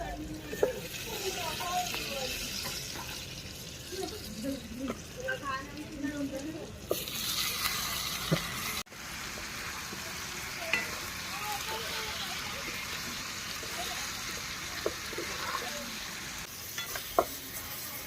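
Brinjal and potato pieces frying in a crackling onion-tomato tempering on a wood-fired chulha, a steady sizzle with occasional stirring scrapes and clinks, a voice talking intermittently over it.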